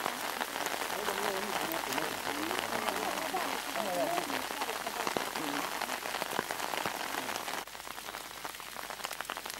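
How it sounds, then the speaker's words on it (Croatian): Rain falls steadily on a mountain trail, a continuous patter of drops on surfaces nearby, with a voice talking over it and a slightly quieter stretch near the end. "Kišica još uvijek nesmiljeno pada."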